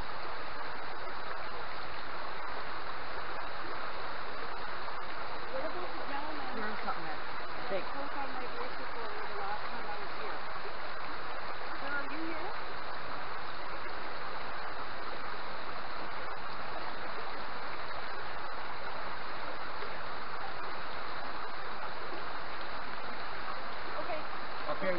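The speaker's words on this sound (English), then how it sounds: "This damn river is too loud." A loud river rushes steadily as a broad continuous wash of flowing water, filling the whole stretch without pause while someone talks faintly in the background.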